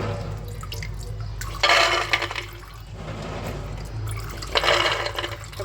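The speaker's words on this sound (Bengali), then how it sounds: "ভালো করে পরিষ্কার করে ধুয়ে নিচ্ছি, পরিষ্কার করে পানি পাল্টে ধুয়ে নিয়েছি।" Soaked chickpeas are rinsed by hand in water, with two main bursts of sloshing and splashing and light dripping between them, close and fairly quiet.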